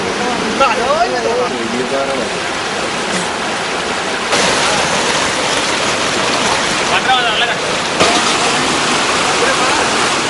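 Water roars out of opened reservoir spill gates, about 10,000 cubic feet per second, in a loud, steady, continuous rush with a voice faintly audible beneath it.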